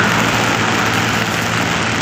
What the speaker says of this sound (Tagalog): So, umuulan ngayon.